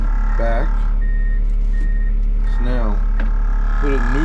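A D51 bulldozer in reverse sounds a repeated backup alarm of steady beeps over its loud, constant diesel rumble, with a brief voice heard nearby.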